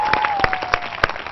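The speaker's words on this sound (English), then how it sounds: "give all our teams a big round of applause." Applause from a studio audience for the competing teams on a televised quiz show quarter-final, individual claps standing out sharply in an uneven, moderately loud rhythm over a faint steady tone.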